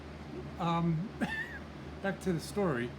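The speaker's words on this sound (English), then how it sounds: "That's my cat" A pet cat named Fluffy meows a few times nearby, drawn-out tonal calls rising and falling between stretches of someone talking, with a low steady hum underneath.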